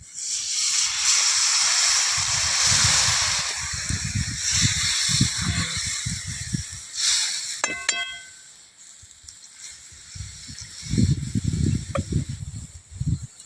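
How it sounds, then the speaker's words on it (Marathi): A loud burst of hissing steam as water hits a hot pan of brinjal curry on a wood-fired stove, fading out, with a metallic clink midway and a second hiss rising near the end. "आता मी याच्यात थोडंसं पाणी घालते"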